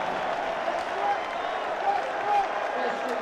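Crowd noise in a partly filled college football stadium in Blacksburg after a false start, a broad sustained roar with scattered clapping under a commentator's talk.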